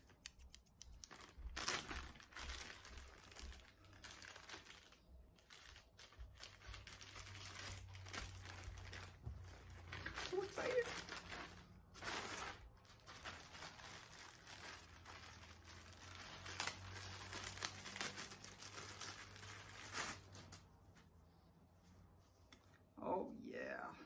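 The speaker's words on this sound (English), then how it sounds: "I got my scissors." Scissors snip and crinkle plastic packaging open on a package of new shorts, a quiet string of short cuts and rustles close by with no talking.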